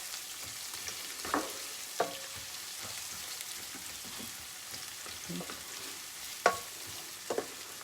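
Spices and onion roasting in clarified butter, a soft, quiet sizzle with occasional louder spoon scrapes and clicks against the pot.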